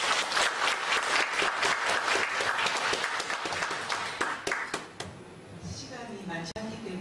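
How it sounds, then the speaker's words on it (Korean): An audience at an academic conference gives rhythmic applause to welcome a speaker. Individual claps are distinct, and the applause fades out near the end as a voice starts. "큰 박수로 모시도록 하겠습니다"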